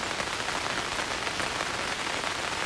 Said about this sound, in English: It's not raining that hard right now